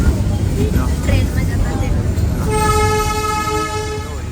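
A Matheran toy train rolls through a hill station with a steady rumble, then sounds a long sustained toot over the last couple of seconds, close and loud, with people chatting over the running noise.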